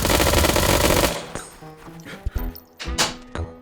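Full-auto gunfire from a 25 ACP-chambered gun in the H3VR video game, heard as a loud, rapid continuous burst of about a second, followed by a few scattered clicks and thumps.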